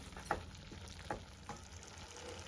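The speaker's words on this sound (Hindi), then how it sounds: "अब मैं इसमें घी डाल दूंगी और नमक भी डाल देंगे और इसको मिक्स कर लेंगे।" Masala fries in ghee with salt added and is stirred, a faint, low sizzle with a few soft spoon clicks and scrapes.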